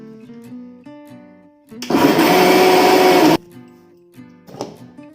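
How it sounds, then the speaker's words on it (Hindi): A blender grinds chenna with sugar and a little milk in a loud, steady whir lasting about a second and a half, framed by soft background music before and after. "एबे आको हमें आउ थरे भलसे ग्राइंड करनवा।"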